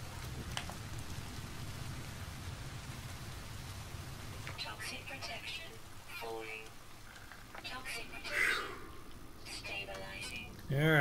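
Steady rain falls in No Man's Sky, a broad wash of patter heard under occasional talk and bursts of game effects, then fades as shelter is reached.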